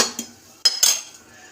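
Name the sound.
stirring khichuri in a pot with a spoon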